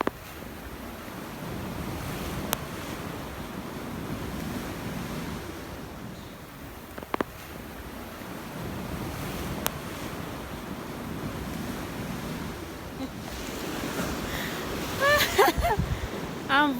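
Atlantic Ocean surf at Swakopmund, Namibia, rolls in as a steady, broad roar of breaking waves with wind buffeting the microphone, a few sharp clicks and faint sounds near the end.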